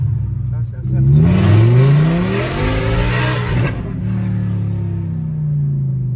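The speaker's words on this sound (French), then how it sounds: "Le V10 quasi libre, je l'ai jamais entendu." V10 car engine revving in first gear, a loud rising howl that climbs sharply, holds near full throttle, then drops back to a rumbling idle, with people talking over it.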